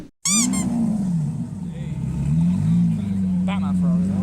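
A Ferrari with a loud exhaust starts with a sharp high rev blip, then settles into a deep, close, droning engine note before another quick rev near the end.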